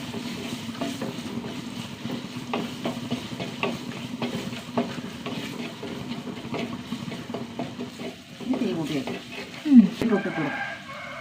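Onion sautés in a pan with a low sizzle and repeated scraping stirs, the strokes coming in an uneven rhythm that grows busier toward the end, with a voice in the background.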